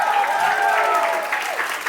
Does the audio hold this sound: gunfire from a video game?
no